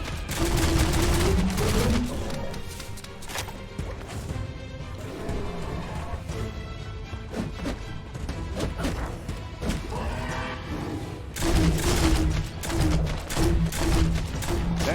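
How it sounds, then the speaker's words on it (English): Gunfire in the game Biomutant, dense overlapping bursts of shots and crashing impacts coming fast and loud throughout, with heavier volleys at the start and near the end. "Watch it. Bullets everywhere."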